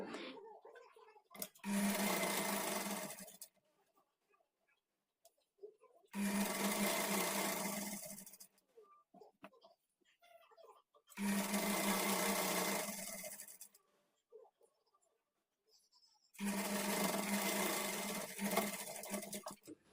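A sewing machine stitches the double-folded hem of a kurti in four separate runs of about two seconds each, with quiet pauses and light handling sounds between them.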